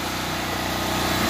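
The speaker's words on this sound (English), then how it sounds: "sorry about the noise, it's the generators." Generators running outdoors at night give a steady, loud engine drone with a throbbing low pulse and a constant hiss on top, with no talking.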